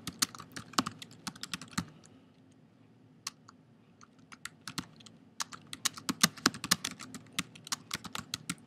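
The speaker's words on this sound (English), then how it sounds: "you can hit the return button and type in your description of these photographs" Keys clatter on a computer keyboard in quick irregular bursts of close, crisp clicks, with a brief lull before the typing picks up again.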